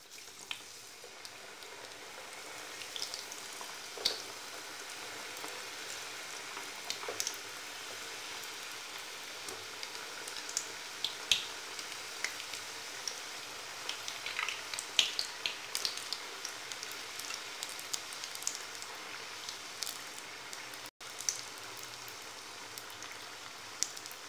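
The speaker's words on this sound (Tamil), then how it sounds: "அடுப்ப சிம்பிள வச்சு பொரிச்சு எடுத்துக்கலாம்" Mutton rolls crackle and sizzle in hot oil in a pan over a low flame, a dense, steady fizz peppered with small pops and spits, fairly quiet and without talk.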